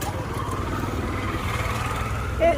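A motorcycle engine idles with a low, steady rumble throughout, close by, with faint voices in the background.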